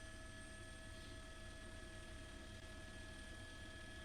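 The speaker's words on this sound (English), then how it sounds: "Sounds like we've also got a CHP helicopter joining the pursuit" California Highway Patrol police helicopter overhead during a vehicle pursuit in Los Angeles County, a faint, steady rotor and engine hum lasting throughout with no talk.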